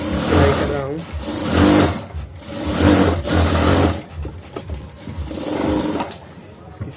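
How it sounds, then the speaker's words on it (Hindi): A sewing machine stitches buttons onto a shirt, its motor whirring in several loud bursts with brief pauses between them. "सबसे पहले शर्ट की जो बटन जिससे कट होते हैं बटन पे सिलाई कर रहा हूँ।"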